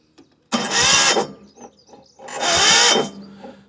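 A digger engine with a suspected flat battery cranks in two separate bursts of about half a second to a second each, a loud grinding whirr that fails to catch, with quiet gaps between.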